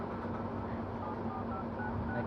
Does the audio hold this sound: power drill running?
no